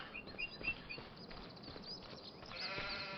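Sheep bleat in a farming video game, several short wavering calls scattered over a quiet farmyard ambience, with no talking.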